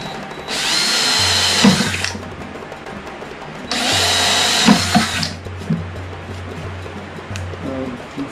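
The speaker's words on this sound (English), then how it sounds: "Before I go to drill that bigger sound hole" A power drill whines in two bursts, each about a second and a half, biting into PVC pipe while making a drum, with a low hum and scraping between runs.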